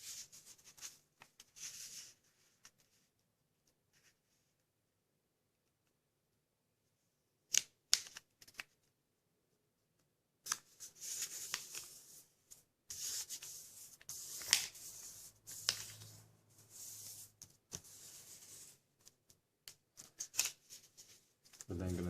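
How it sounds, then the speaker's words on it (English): Origami paper is folded and pressed into creases in bursts of crisp rustling and rubbing, with long quiet gaps between handling and a denser stretch of crinkling near the end. "we're going to take this side here and we're going to fold it to this edge here"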